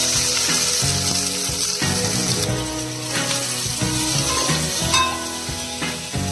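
Onions frying in ghee in a pan, a dense steady sizzle with occasional clinks and scrapes of stirring.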